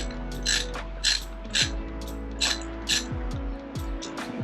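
A ratchet works a spark plug loose on a Lincoln MKX, with about seven to eight rhythmic bursts of clicking pawl, close and distinct, each stroke trailing into a softer mechanical whir.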